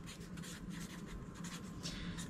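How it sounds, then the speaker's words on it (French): Handwritten note being jotted down, with a faint, continuous scratching of pen on paper over a low background hum and no talk. "Fait que je vais me prendre une note, là."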